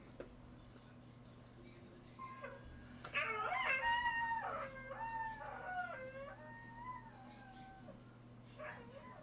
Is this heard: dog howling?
yes